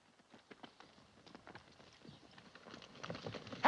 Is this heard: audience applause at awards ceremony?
no